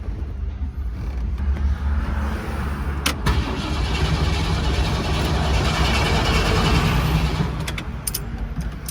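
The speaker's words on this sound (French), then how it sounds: "Bon, au moins elle démarre." Ford Mustang engine cranking and catching, then running at a loud, rough, steady idle, close by.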